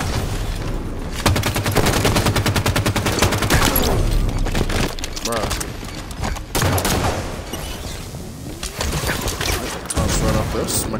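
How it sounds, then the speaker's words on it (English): A teammate's rapid automatic fire in a Halo video game rattles on loudly and almost without pause, with the bursts briefly breaking apart near the end. "Teammate's literally shooting me"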